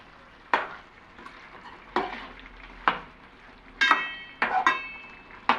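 Fish curry stirred in a wide pan, with about seven brisk scraping strokes of a spoon against metal at a steady rhythm, close and clear with a light sizzle between strokes.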